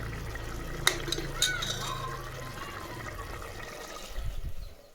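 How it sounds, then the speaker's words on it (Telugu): Water is poured into chicken curry cooking in a pan, a steady liquid pour with a couple of clinks at the start, fairly close and tailing off as the pour ends. "ఆయిల్ పైకి వచ్చేసిన తర్వాత నేనైతే ఇందులోకి వాటర్ అయితే వేస్తాను ఫ్రెండ్స్"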